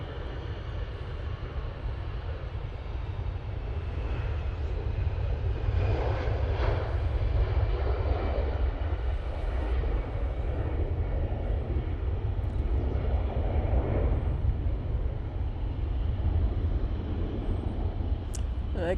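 An orange-liveried airliner takes off from Manchester Airport bound for Prague, a loud, sustained jet-engine roar that swells and holds for the whole stretch with no voices heard.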